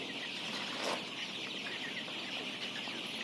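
Egyptian Fayoumi chickens cluck on a farm, soft scattered clucks over a constant hiss of background noise, faint and somewhat distant, with no one talking.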